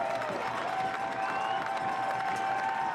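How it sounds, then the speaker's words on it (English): Stadium crowd at a Colorado Springs Switchbacks FC versus Real Monarchs SLC soccer match applauds steadily from a distance, a broad even wash of clapping with faint cheering. "And a lot of applause right now."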